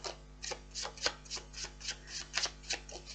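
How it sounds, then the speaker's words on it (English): Tarot cards shuffled by hand, giving a string of soft papery riffling bursts, about a dozen in quick succession, over a steady low hum. "Right, one more shuffle round."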